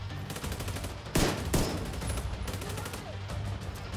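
Pistol gunfire in the video game The Division 2: two sharp, loud shots crack out a moment apart above a continuous rattle of rapid background gunfire and game noise.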